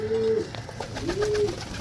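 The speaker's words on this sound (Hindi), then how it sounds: "ए बदम सिरा जा कबूतर है बहुत अच्छा" A badam sira pigeon coos nearby with soft, low, drawn-out calls over a steady background hum.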